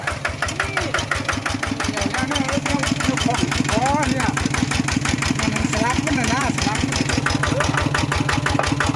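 A second-hand walk-behind farm tractor engine idles loud and close with a fast, steady knocking chug throughout, while people talk over it.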